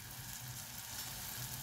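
Steady, close sizzling and crackling of eggplant frying in hot oil, continuous throughout with no voices.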